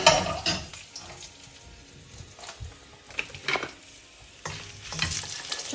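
Green Sichuan peppers and dried red chilies frying in oil for a mushroom stir fry, crackling sizzle punctuated by bursts of stirring and metallic scrapes, rising and falling in short spurts.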